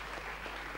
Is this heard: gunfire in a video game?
no